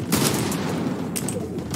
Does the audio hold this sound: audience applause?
no